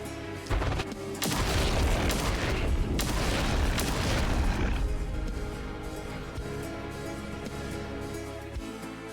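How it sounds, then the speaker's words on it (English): A heat explosion in the video game The Last Spell booms out as a loud, dense roaring blast. A crackling rumble carries it for several seconds before it tails off into quieter game sound, with no voices. "The heat explosion could trigger Carnage?"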